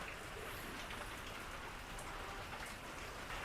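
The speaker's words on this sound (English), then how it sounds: "yes, it is raining." Steady rain falling in East Central Mississippi, a dense, even hiss of drops on surfaces that stays constant throughout at moderate volume with no voices.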